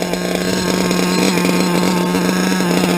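A modded RCR Rex 28.8 nitro engine in an RC car runs at a high, steady buzzing whine, loud and close, with no talk over it.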